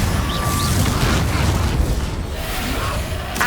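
Confringo explosive spell blast in the Hogwarts Legacy video game on PS5, booming bursts and pops within a loud, dense combat din that rumbles steadily throughout.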